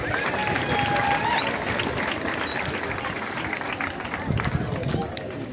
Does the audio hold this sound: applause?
yes